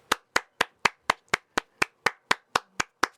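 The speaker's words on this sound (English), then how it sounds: "I'm clapping it up." One person claps hands alone in a slow, even rhythm, about thirteen sharp, close claps spaced roughly a quarter second apart with silence between them.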